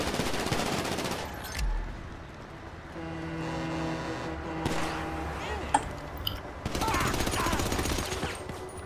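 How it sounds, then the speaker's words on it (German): Gunfire in the video game GTA V arrives in bursts at the start and again near the end, mixed with vehicle engine drone and game sound between the bursts. "Pass auf, die schießen."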